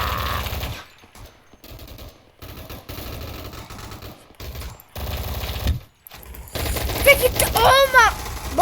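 Bursts of rapid automatic gunfire from a machine gun in an online arena shooter, loud and broken by short silent gaps, with a voice talking over parts of it and a sweeping tonal game effect near the end.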